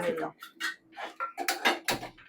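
Dishes, pots and pans clatter and clink in a home kitchen, with close, sharp bursts of metal and ceramic knocking in an uneven rhythm and a voice talking between them.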